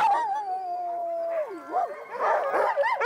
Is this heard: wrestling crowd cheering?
no